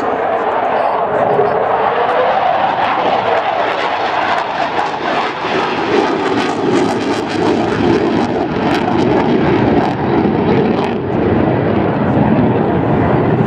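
A jet fighter roars past at an air show, a loud sustained engine rumble with a rising and falling sweep, while a commentator's voice talks over it throughout.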